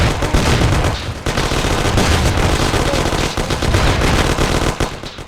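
Rapid, dense gunfire in the shooter game Mafia: The City of Lost Heaven, loud sustained machine-gun bursts and overlapping shots filling the whole stretch with only brief gaps.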